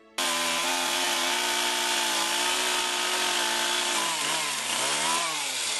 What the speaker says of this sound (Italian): A cosa è servito aprirsi la strada con la motosega tra gli alberi battuti della tempesta Vaia?